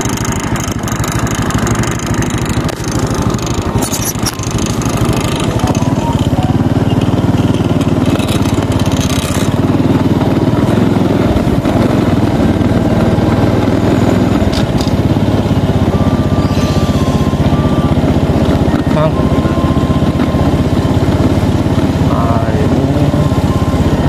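Motorcycles passing along busy Jalan Cendana in Menteng, Jakarta, a continuous loud buzz of mid-pitched engines with revving and passing vehicles throughout.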